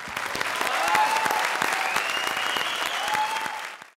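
Enthusiastic studio audience applause after a comedy performance, loud and continuous for several seconds with crisp individual claps, ending abruptly.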